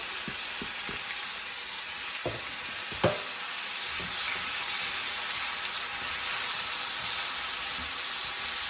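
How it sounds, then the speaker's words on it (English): One medium diced onion sautéing in a pan, a steady close hiss of frying with a few knocks and scrapes of a utensil against the pan early on, including one sharper clack. "get your onion down in the pan where it can start sauteing"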